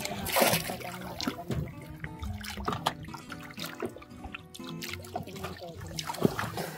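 Water sloshes and trickles as it is swirled around a gold-panning pan, a soft, continuous splashing with little clicks and faint voices in the background.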